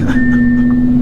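A 2021 Audi R8 V10 engine running right after startup, a steady close, loud mechanical drone with a sustained tonal hum that holds evenly for about a second.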